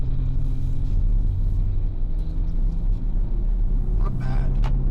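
A V6 Nissan Patrol rumbles loudly from inside the cabin as it accelerates uphill through first and second gear into a corner, a steady low engine drone with a voice talking over it.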